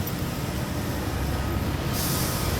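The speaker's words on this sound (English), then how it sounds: "There comes my bus." A Metro Express city bus pulls up to a stop, heard as a steady low engine rumble and broadband road noise with a brief brake hiss near the end, all fairly close and without speech.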